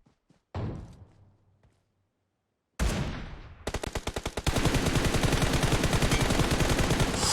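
A spray of gunfire in PUBG Mobile: after a couple of isolated loud shots and a pause, a long, rapid, evenly spaced stream of automatic rounds rattles on close and loud to the end.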